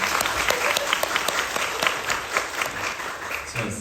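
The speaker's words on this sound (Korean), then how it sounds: "박수 한번 주십시오" A theater audience at a stage greeting after a musical performance claps continuously in a steady round of applause, moderately loud, with a few distinct nearby claps.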